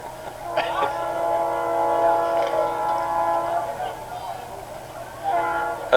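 A train horn blows a long, steady chord that holds through most of the stretch and swells louder near the end, with faint voices underneath.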